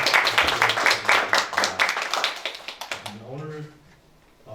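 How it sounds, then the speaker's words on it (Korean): Church congregation claps for two guests during a service. A burst of hand clapping comes from a small crowd and fades after about three seconds, and a voice speaks briefly near the end. "우리 두 분을 위해서 큰 박수로 우리"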